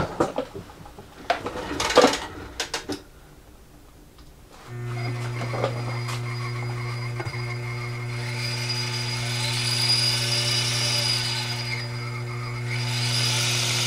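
An old lathe, fitted with a new PU cord V-belt and long out of service, starts after some handling clatter and runs with a steady motor hum and belt whir that holds evenly for several seconds with no one talking.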